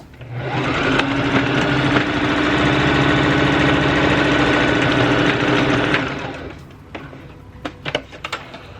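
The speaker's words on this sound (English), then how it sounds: "close up your hole, find a little bit behind where the opening is, and then sew to just behind where the close is" A sewing machine stitching a fabric scrunchie runs in one steady whirring burst of about six seconds, then stops, followed by a few soft handling clicks and taps close by.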